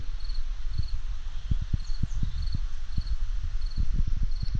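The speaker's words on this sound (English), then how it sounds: "Cicadas." Continuous high cicada buzzing drones outdoors, with a repeating shrill pulsing trill over soft ambient rustle and scattered low thumps.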